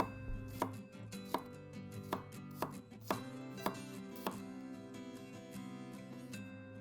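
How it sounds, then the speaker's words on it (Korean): A knife slices garlic thinly on a cutting board, giving a series of crisp, close chopping taps at a quick, fairly regular pace over a faint background hum, with no talking. "마늘은 이렇게 편썰기를 해줍니다."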